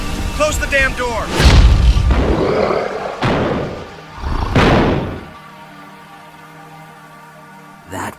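Several heavy thuds and bangs hit in a row, with a loud slam around the middle over noisy commotion and hurried voices, then a lower rumble as the scene settles and a final knock at the end.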